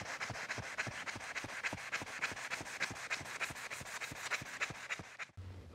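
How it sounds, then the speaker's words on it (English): Coarse grit sandpaper rubs brass stock for a dovetail saw, removing router mill marks, in about twenty quick rhythmic back-and-forth strokes, close and moderately loud, then stopping abruptly. "I've gotta go in and sand the brass to get rid of these mill marks. I'll start off with a coarse grit and finish with a fine."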